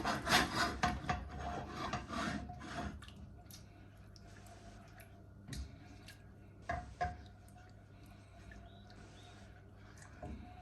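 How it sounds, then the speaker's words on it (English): A wooden spoon stirring chicken biryani in a pot, several rough scraping rubs up close at first, then quieter intermittent scrapes and taps against the pot. "Give that a stir."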